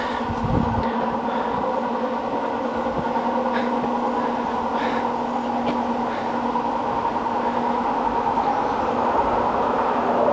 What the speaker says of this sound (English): Another bleeping train.